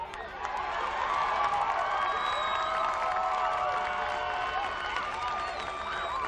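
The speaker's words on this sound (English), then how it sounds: "as we hear the crowd in the background" A crowd cheers and shouts from the stands at a 1997 girls high school soccer championship match, a dense, steady roar of mixed voices and whoops that holds without a break.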